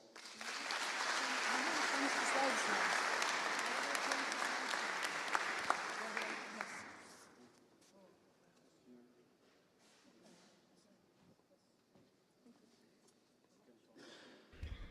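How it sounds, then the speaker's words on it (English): Conference audience at a security event applauding a keynote speaker, dense loud clapping for about seven seconds before dying away into quiet room noise. "Give her a big applause."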